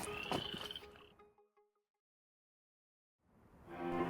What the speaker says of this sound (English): as the tree frogs start singing